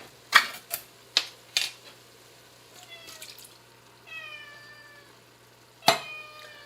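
A cat meows several times nearby, short cries between sharp clicks and clatters, with quiet pauses in between.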